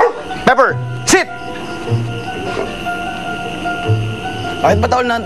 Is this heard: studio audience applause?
no